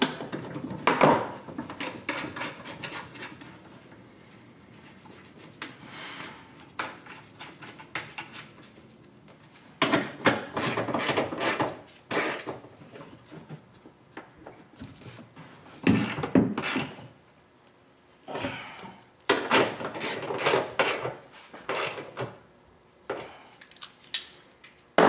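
Wrench work on a Chevrolet Silverado 5.3L battery terminal bolt, heard as bursts of metallic clicking and ratcheting clatter separated by quiet pauses, close up with no talk.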